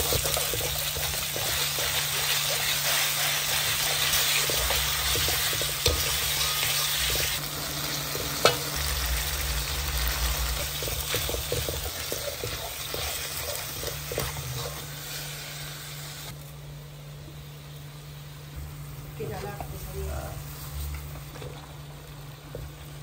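Bihun goreng, fried rice vermicelli, sizzles in a hot pan while being stir-fried, with steady crackling and scraping stirring that eases slightly toward the end.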